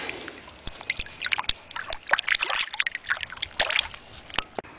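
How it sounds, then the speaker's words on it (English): Antique soda bottles are rinsed in a creek, with close sloshing, trickling and small splashes in quick irregular bursts against the steady flow of the outdoor stream. "then I got the creek right next to me to wash the bottles off in"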